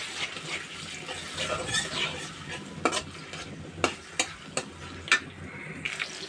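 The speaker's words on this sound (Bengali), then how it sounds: "আর রসুন বাটাটাও দিয়ে দিলাম" Garlic paste frying in a pan for a shrimp and pumpkin stir-fry, a steady close sizzle with stirring and scraping, several sharp utensil clicks and knocks punctuating it, no talk.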